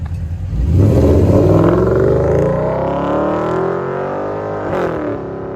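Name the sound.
Porsche Cayenne S 4.8L V8 with Vibrant exhaust revving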